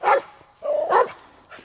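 A dog barks at a campground, two or three loud, close yaps with a whiny, drawn-out middle bark, set against quiet outdoor background.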